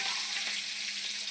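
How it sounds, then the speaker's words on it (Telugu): Finely chopped onion fries in oil for a Nellore-style moong dal curry, making a dense, even hiss of sizzling close by with no voices. "ఇందులో సన్నగా తరుక్కున్న ఉల్లిపాయ."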